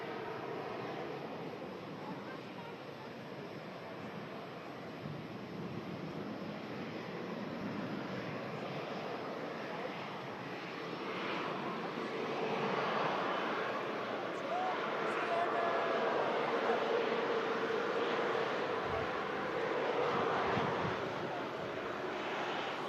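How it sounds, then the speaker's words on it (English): A Ryanair airliner departs Manchester Airport during a storm, its engines a distant, broad roar swelling slowly amid gusting wind noise, heard faintly over a long stretch. "That's a Ryanair just departing."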